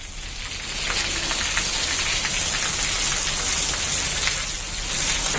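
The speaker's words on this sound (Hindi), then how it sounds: "पन्ना में भी बारिश की वजह से हाहाकार मची है, तो हरदा में भी भरपूर बारिश हुई है।" Heavy monsoon rain pours down in Madhya Pradesh, India, a dense, continuous hiss of drops striking surfaces that swells slightly after the first second and holds loud and steady throughout, with no voices.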